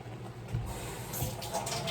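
Steady water pouring from a kitchen tap while hands are washed, a continuous close splashing rush with no voice.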